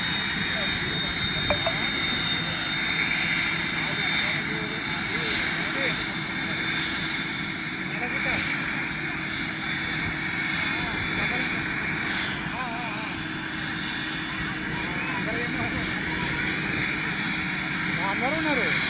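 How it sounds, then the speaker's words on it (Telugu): Indian Air Force helicopter on the ground in a farm field after an emergency landing from a technical fault, its engine and rotor making a steady loud drone for the whole stretch while voices talk over it. "అత్యవసర ల్యాండ్ అయిన ఇండియన్ ఎయిర్ ఫోర్స్ హెలికాప్టర్"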